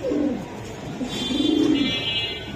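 High-flying Giribaz racing pigeons coo nearby in soft, low, rolling calls that continue steadily over a light ambient hum.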